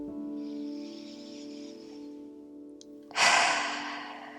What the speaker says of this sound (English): We'll take 3 cleansing breaths together, in through the nose and out through the mouth.